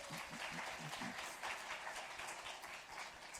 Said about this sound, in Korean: 박수로 한번 감사할까요?